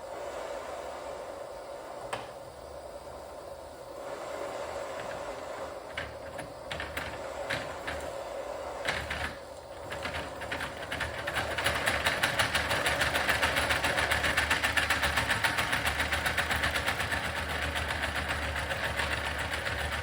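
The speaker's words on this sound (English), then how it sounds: "I'm about to put the burner back in the engine and see how it runs" Live model steam engine running under steam with its burner fitted, giving a quiet, steady mechanical chuffing and ticking that grows busier and slightly louder partway through, with no talk.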